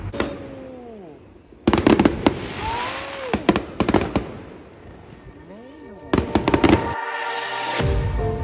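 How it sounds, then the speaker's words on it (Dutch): Repeated sharp bursts of New Year's Eve fireworks crackle and bang in clusters, separated by whistling rockets rising and falling in pitch, loud and fairly close. "Knallen overal, maar echt niet die kleine knalletjes"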